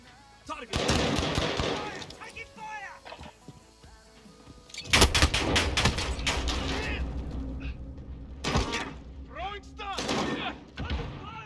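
Gunfire in a video game, loud bursts of shots and impacts in clustered volleys with quieter gaps between, while players talk over the action.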